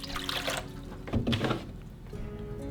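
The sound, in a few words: pouring distilled water onto a microfiber cloth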